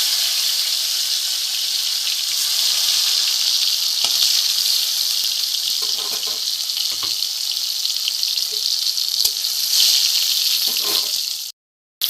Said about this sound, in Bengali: তেলটা আমার গরম হয়ে গেছে এখানে আমি প্রথমে এই টমেটো কুচিগুলো দিয়ে দেবো